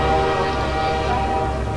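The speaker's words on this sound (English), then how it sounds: "Train!" A train rumbles past with its horn sounding continuously in the Half-Life 2 co-op campaign, a loud, steady tonal blare over low rail rumble throughout, with no talking.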